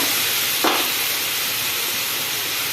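Eggplant and khoira fish bori sizzle loudly in a pan with a splash of water and salt, a dense, steady hiss of frying broken by one brief stir, close and continuous with no talking.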